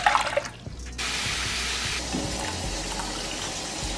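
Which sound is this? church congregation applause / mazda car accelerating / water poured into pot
water poured into pot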